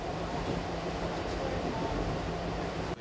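A train runs on the Yeongdong railway line in South Korea, heard from aboard as a steady, loud rumble with a low humming drone, ending in a sudden brief knock.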